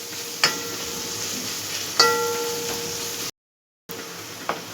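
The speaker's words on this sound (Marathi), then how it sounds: "कांदा तळून झालाय." Onion frying in a pan over high heat for a spicy chicken ball gravy, soft sizzling with a couple of sharp clinks of a spoon against the pan, briefly cut to silence near the end.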